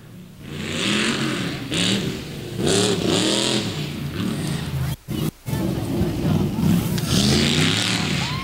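A tough truck at a dirt speedway revs its engine hard and loud, the roar rising and falling in repeated surges with two brief cutouts, amid crowd and track noise.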